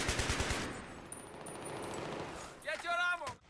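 A PKP Pecheneg machine gun in the video game Battlefield 3 on Operation Metro fires a rapid burst of rattling shots, followed by a quieter lull and then brief metallic clinks and a sharper closing crack.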